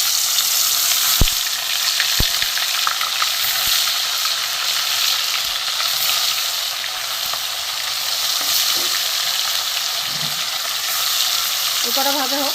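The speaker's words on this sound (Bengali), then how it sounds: "এবার আমি একটা একটা করে ভেজে নেব।" Parshe fish, coated in salt and turmeric, frying one by one in hot oil, a steady broadband sizzle throughout with a few sharp clicks of a utensil early on.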